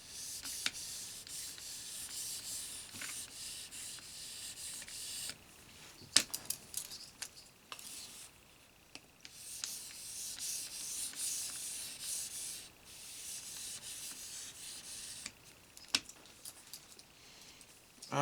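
Repeated strokes of a knife blade across the stone of an EdgePro Apex sharpener, a soft rhythmic rasping scrape with brief clicks, steady and fairly quiet throughout.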